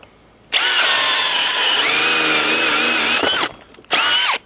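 A Bosch 1330 drill in drill mode at speed 2 boring through wood with a 1 1/4-inch Irwin speed bore bit, one loud sustained whine that bogs and dips under load, then a short pause and a second brief burst.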